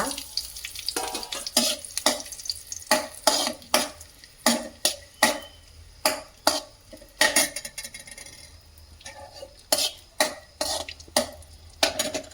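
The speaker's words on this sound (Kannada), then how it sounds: "ಗೋಡಂಬಿನ ಈ ರೀತಿ ಹುರ್ಕೊಳ್ಬೇಕಾಗುತ್ತೆ ತುಪ್ಪದಲ್ಲಿ. ಅದೇ ರೀತಿ ದ್ರಾಕ್ಷಿನೂ ಸಹ." Cashews and raisins fry in ghee in a pan, a soft sizzle punctuated by frequent sharp scrapes and clinks of a spoon stirring against the metal in an irregular rhythm, close up with no talking.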